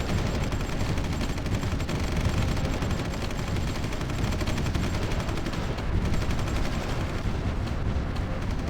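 Dense, continuous battle gunfire from the strategy game Supreme Ruler, a steady wash of overlapping shots and rumbling barrages with no pauses.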